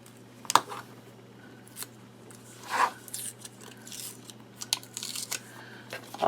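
Paper backing being peeled off cardstock with a pick tool, heard as a sharp click, a brief scraping tear and scattered small rustles and taps, close and quiet with a low hum beneath.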